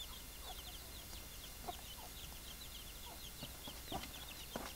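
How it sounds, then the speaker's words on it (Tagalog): Chickens of several breeds on a small poultry farm, scattered clucks and short calls near and far over a steady outdoor background. "So lahat naman ng mga manok ko dito, tatlo yung klase na manok ko dito ngayon."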